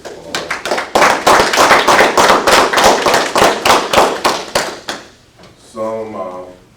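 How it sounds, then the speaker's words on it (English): At the BLET Spring 2020 graduation ceremony, loud, crisp clapping beats out a fast, regular rhythm for about five seconds, then fades and gives way to a brief voice. "Let's give him a round of applause."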